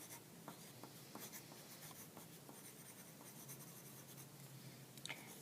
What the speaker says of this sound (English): I'm going to write my name